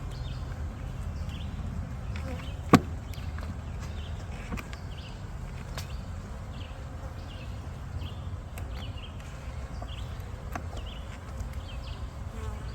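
Honey bees hum in a steady, close, dense drone while a hive is opened for inspection, with one sharp tap near the start and faint talk underneath.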